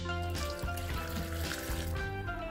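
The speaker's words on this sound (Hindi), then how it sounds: "और इसमें मैं डालती हूँ पानी" Water pours from a bowl into a pressure cooker for paya curry, a steady close splashing and trickling stream heard alone at moderate loudness.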